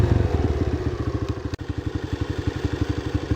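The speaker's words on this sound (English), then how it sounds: "If I let the clutch go, yeah, the bike's going to go off, right? but I'm controlling it here." A dirt bike engine runs steadily at low revs with the clutch held near the friction point, giving a close, even stream of rapid firing pulses with a brief dip midway.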